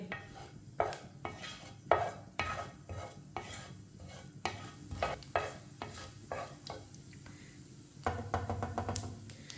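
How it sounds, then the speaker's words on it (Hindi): Whole cumin and coriander seeds dry-roast in a pan with a soft sizzle, while a utensil stirs and scrapes in irregular close clinks and knocks against the metal. "आधी चमची साबुत जीरा। आधी चमची साबुत धनिया। 1 मिनट के लिए रोस्ट कर लेंगे।"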